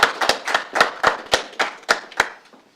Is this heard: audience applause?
yes